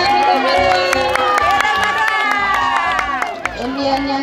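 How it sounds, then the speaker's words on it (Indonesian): A crowd at a village fashion show in Toraja cheers, shouts and whoops loudly and steadily, with children's high voices mixed into the continuous noise and some scattered clapping. "Tepuk tangan untuk kedua."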